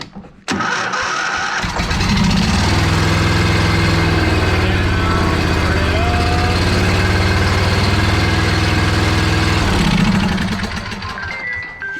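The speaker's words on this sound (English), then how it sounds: "Engine's on. I got it mechanically running." A John Deere zero-turn mower engine starts and runs steadily for about eight seconds with a loud, low rumble close by, then drops away near the end of the clip.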